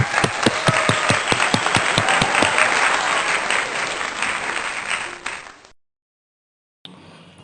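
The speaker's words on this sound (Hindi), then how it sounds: "तालियां।" A congregation at a Sunday worship service breaks into lively applause, dense clapping with a few sharp distinct claps at the start, fading over about five seconds to silence before a brief sound returns.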